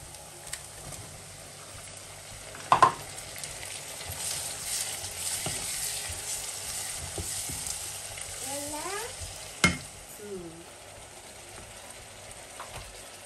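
Meat sizzles as it fries in a pot for a palak gosht curry. Steady frying hiss runs throughout with occasional stirring scrapes, a couple of sharp clanks, and faint distant tones in the background.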